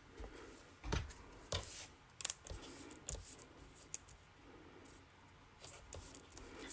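Scissors snipping paper for card making, a handful of close, quiet crisp cuts spaced irregularly, with soft rustling of paper between them and no talk.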